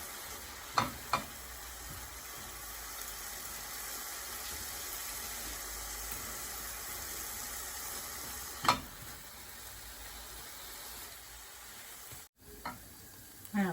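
Mung bean filling for a sago dessert stir-fried in a pan, a steady soft sizzle throughout with a few sharp scraping clicks of the spatula, moderately faint and with no talking.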